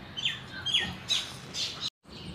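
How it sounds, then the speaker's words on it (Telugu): Birds at Vizag zoo give a run of sharp, harsh squawks, several in quick succession at moderate distance over a steady outdoor background. "ఇక ఆడ పిట్టెలు అవి ఉన్నాయి"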